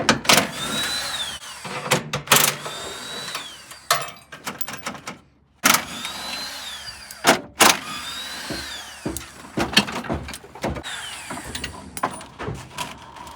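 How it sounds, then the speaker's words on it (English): At a Sun Valley LKQ junkyard, a power tool blasts bolts off an AC condenser in repeated loud whirring bursts separated by short pauses, with rising whines and metallic clatter up close. "Every bolt I see, AC condenser, I'm just going to start blasting it off."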